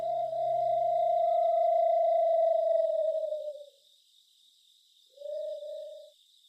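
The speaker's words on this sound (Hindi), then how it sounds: "अचानक दूर से उल्लू की आवाज आई" An owl calls from a distance at night, one long steady hoot of about three and a half seconds, then a pause and a second shorter hoot, carried over a faint high background hum.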